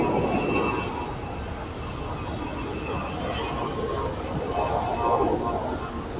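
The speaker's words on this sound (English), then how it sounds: "So this Alliance is now heading off to Newcastle, departing here on runway 19er." An Alliance airliner departing Sydney Airport on runway 19, bound for Newcastle, gives a sustained engine roar that holds steady with slight swells as it climbs away, heard from a distance.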